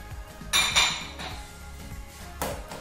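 Potatoes dropped into a Thermomix steamer basket, giving a couple of bright clattering knocks close by, followed by softer shuffling and one more clink near the end.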